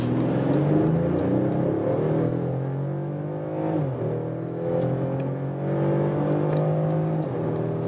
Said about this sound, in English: We accelerate from 30 kilometers an hour to whatever.